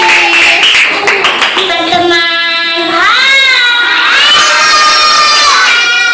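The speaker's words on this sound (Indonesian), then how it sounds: "tepuk tangan untuk teman kalian" Schoolchildren clap for a classmate amid excited shouting and high voices, the lively classroom din filling the room close by.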